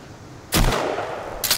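A single sharp, loud gunshot in the survival video game Sons of the Forest rings out after a quiet lead-in and decays into a reverberant tail, followed by a second short burst at the very end.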